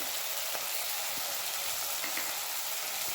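Onions and tomatoes sauté in a pan for a homemade crab curry, giving a constant close sizzle with occasional faint stirring scrapes and no talk.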